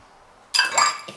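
Ice cubes and cold water tipped into a bowl while making peach pie pastry, a sudden bright clattering and splashing burst that rattles for about half a second before a final small clink.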